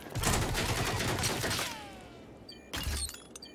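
A vase shatters during a Rogue Company match, a sharp crash of breaking glassy debris landing among earlier bursts of gunfire, followed by scattered small tinkling pieces.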